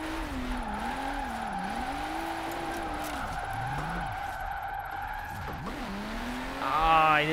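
A car drifting down a mountain road with no handbrake in the video game Forza Horizon 4, steady engine drone under a continuous wavering tire squeal that rises and falls, swelling louder with a sharper screech near the end.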